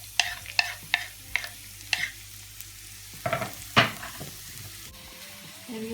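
Onions frying in a pan in a home kitchen crackle and sizzle steadily while a utensil stirs them in a series of sharp scraping strokes, close and clear with no talk.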